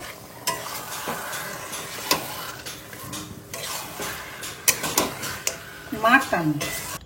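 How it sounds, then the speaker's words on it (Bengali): Mutton cooking in a home kitchen pan, with soft sizzling under repeated stirring and scraping, clattering utensil knocks and a brief high clink near the end; a person speaks at times. "আমি নিচে এসে দেখলাম আজকে আমাদের বাড়িতে মাটন রান্না হচ্ছে"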